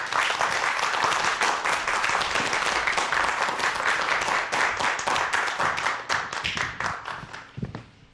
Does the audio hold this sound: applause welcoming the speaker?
yes